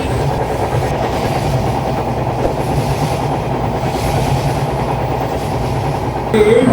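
A train runs on the rails between Dhaka and Mawa, a continuous loud rumble with rhythmic clickety-clack of the wheels, heard from on board, and a brief squeal near the end.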